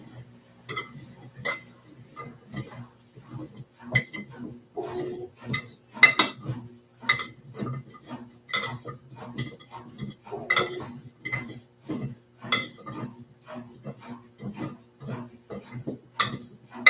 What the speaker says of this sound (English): I'm going to get my spoon. I'm going to kind of stir them around.